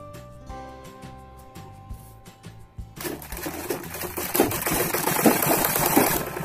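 A sewing machine stitches piping onto a four-layer dhoti salwar, with light mechanical clicks at first, then a steady, close, fast-running whir that grows louder and carries on continuously with no talking.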